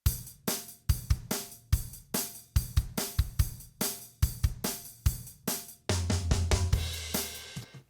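Logic Pro Drummer Kyle drum track for an 80s-style song, a steady close kick-and-snare groove with crisp hits in a regular rhythm, ending in a denser run of fills with cymbal wash, no voices.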